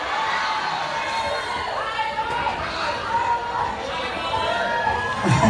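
A concert crowd shouts and cheers in a steady, dense roar that stays loud throughout, with a few higher voices standing out near the end.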